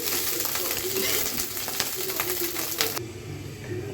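Fish roe, rohu eggs, fries in hot oil in a pan, a steady busy sizzle with small crackles and pops that cuts off abruptly near the end.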